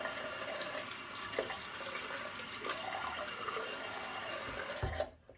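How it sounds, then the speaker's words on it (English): A tap runs steadily as water is splashed onto the face before a shave, a close, continuous hiss of flowing water that cuts off abruptly at the end. "And quickly wet the face, because I did not do that previous."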